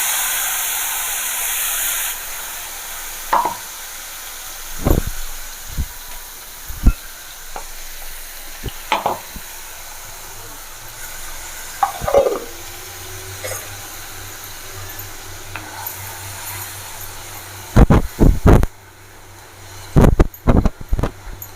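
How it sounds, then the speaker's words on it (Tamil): Raw ground paste of tomato, onion and chili is poured into a hot pan, giving a steady sizzle and hiss with scattered clatters and stirring knocks, louder bursts near the end. "இந்த பச்சையாக நம்ம அரைச்சி வச்சுருக்கோம் பார்த்தீங்களா, தக்காளி, வெங்காயம், மிளகாய், இது மூணுத்தையும் பச்சையாக அரைச்சி வச்சதை இதில் அப்படியே கொட்டிடுங்க."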